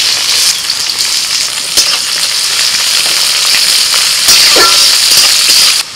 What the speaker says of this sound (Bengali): ফোড়নটা হয়ে গেলে দিয়ে দিচ্ছি পেঁয়াজ কুচি